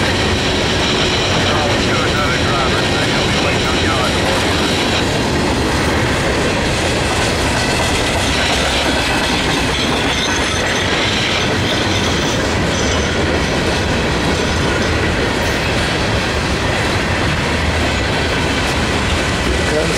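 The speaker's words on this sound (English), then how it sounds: "Pretty big train for three SD40s." A long Norfolk Southern freight led by three SD40 locomotives in Notch 8 roars past close by, a loud unbroken rumble of engines and wheels with clickety-clack from the passing cars.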